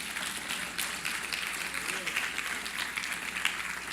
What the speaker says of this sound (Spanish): Dele la gloria al Señor, dele el aplauso.